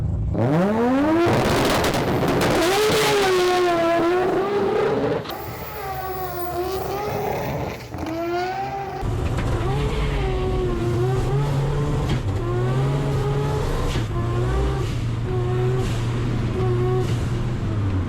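A three-rotor Mazda RX-7 accelerates hard, its engine note climbing through several gears in loud, close, rasping sweeps, with shift breaks between the pulls.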